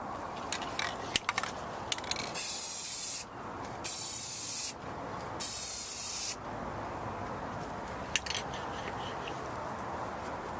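A spray can applies clear paint to a car headlight. A few short hissing puffs come first, then three steady, close, loud spray bursts of about a second each, separated by brief pauses, with no talk.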